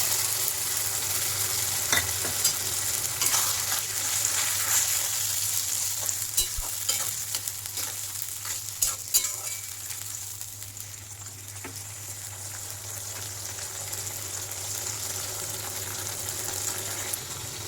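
Soy sauce and tomato sauce sizzle in a hot pan for a Bengali chilli soya dish, a close, continuous frying hiss broken by scraping stirs, with no talk.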